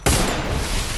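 A Desert Eagle fires a single sharp, loud shot in a shooter video game, and a dense, noisy burst trails off over the following second.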